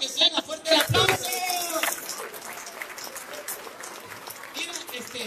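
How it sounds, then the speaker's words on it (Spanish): A street-show audience applauds with dense clapping that peaks early and then thins to a lighter patter, with voices mixed in. "¡Que suena fuerte el aplauso!"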